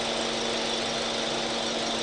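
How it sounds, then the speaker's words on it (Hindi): A Kia Sonet engine idles steadily with a misfire, giving a constant low hum and rough vibrating drone that stays even throughout, with no voices. "तो अभी देख सकते हैं मेरा इंजन कितना वाइब्रेशन हो रहा है इसमें।"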